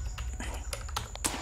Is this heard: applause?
no